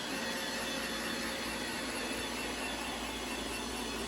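A steady, quiet whirring hum with a high-pitched whine runs unbroken throughout from an iRobot Roomba 692 robot vacuum running close by.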